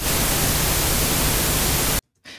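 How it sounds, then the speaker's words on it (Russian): Pink noise test signal played in FL Studio, a loud, dense, steady hiss that runs for two seconds, then cuts off abruptly into silence, with a short faint burst of noise just after. "у нас где-то до 6 дБ примерно доходит наш розовый шум"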